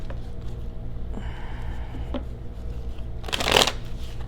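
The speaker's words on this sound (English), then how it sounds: "we're going through the pre-shuffle here" A deck of tarot cards is shuffled by hand in a quiet room, with soft riffling and sliding through the clip and a louder, brisk burst of card riffles near the end.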